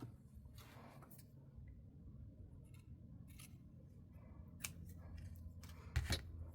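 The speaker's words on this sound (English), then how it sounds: "Okay, so I'm just going to cut off a little piece here." Scissors snipping a small piece of leftover lace at a crafting table, a few quiet, faint cuts with a sharper snip near the end, no talking.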